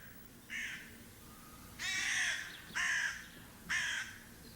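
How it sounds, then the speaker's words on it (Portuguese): Jackdaws give four short, harsh caws at fairly even intervals. They are moderately loud over a steady low background hum. "Mais tarde, Choc irá adotar uma das 14 pequenas gralhas que Laurence criou"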